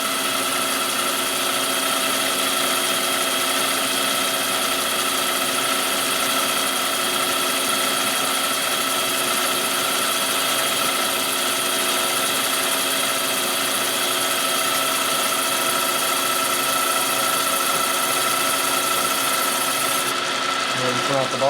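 A boring machine steadily cuts a Harley-Davidson Twin Cam big bore cylinder, 98ci to 107ci, with a continuous whining, droning machine tone that holds level throughout, close and loud.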